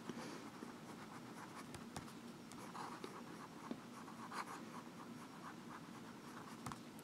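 A Visconti Homo Sapiens fountain pen with a medium nib scratches across paper in quiet, continuous strokes with small taps and scrapes, close and faint.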